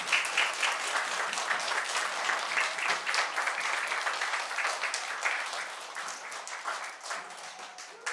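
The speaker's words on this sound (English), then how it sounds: "join us in a round of applause for all of our first grade graduates" An audience of families applauds first grade graduates at a school awards ceremony, with lively, crowded clapping that stays full and steady before tapering slightly near the end.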